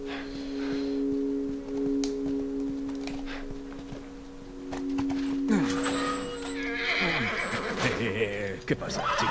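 Horse in The Last of Us whinnies amid game ambience, with steady tones, thumps and a clatter of movement, close and fairly loud.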